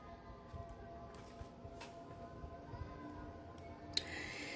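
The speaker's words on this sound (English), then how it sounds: "Sorry about the siren." A faint, distant siren drones under a low background hum, with a few soft clicks and taps nearby.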